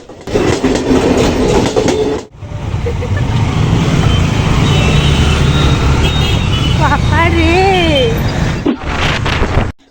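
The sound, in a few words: train arriving at a station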